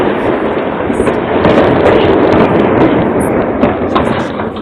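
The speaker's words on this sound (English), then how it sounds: "You see that explosion?" A massive explosion in northwest Houston caught on surveillance video, heard as a sustained loud, dense rumbling roar with scattered crackles and bangs throughout, no voices.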